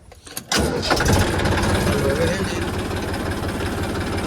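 After a brief silence a tractor engine cranks and catches with a sharp burst, then settles into a loud, rumbling idle close by.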